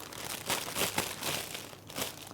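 Plastic Ziploc bag crinkles and rustles steadily as a slurry for a plant-based recipe is spooned into it, close and fairly loud, with soft crunchy pulses throughout and no talking.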